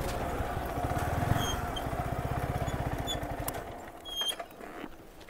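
A motorcycle engine pulses with a rapid rhythmic thump that swells nearby, then fades as the bike moves off, leaving faint background noise and a few clicks.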